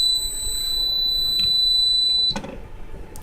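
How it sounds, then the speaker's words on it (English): A water level indicator alarm sounds a steady high-pitched electronic beep for about two seconds and then cuts off, leaving quiet room noise with a few faint clicks. "It goes into the red, it goes into alarm, and it tells you, hey, the water level went over."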